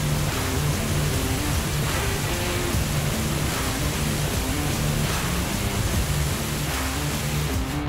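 Water jet spraying from a toy turbojet fire truck in pretend play, a steady broadband hiss of rushing water that runs loud and unbroken, with a low rumbling undertone throughout.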